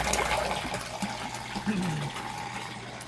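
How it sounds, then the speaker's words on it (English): Water pours and gurgles steadily through two aquaponic siphons in a shed, a continuous close rushing flow with no talking. "You can hear that siphon. There's actually two of them going."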